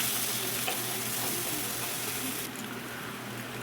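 Crushed spice masala for egg curry sizzles softly in a pan with a steady low frying hiss that drops slightly in level partway through; no one speaks.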